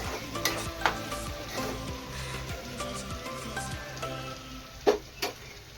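Ivy gourd curry with fresh coriander is stirred in a pan over low frying sizzle, with repeated soft scraping strokes and a couple of louder knocks of the spoon near the end, close by.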